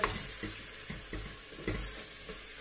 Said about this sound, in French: on laisse la viande mijoter quelques minutes aussi avec les oignons, les épices